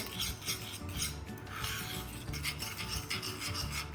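Continuous scraping and rasping of a utensil stirring a thick homemade cocoa hazelnut cream mixture in a bowl, steady and close, with a low background hum.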